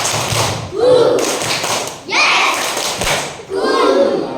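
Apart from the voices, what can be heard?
classroom clapping game 'tepuk hati ngantuk'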